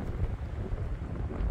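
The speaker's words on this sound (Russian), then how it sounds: "Ветер сильный с моря" Strong wind off the sea buffets the microphone in a steady, rumbling roar, with low gusting noise and no voices, on the Estonian coast at Vääna-Jõesuu.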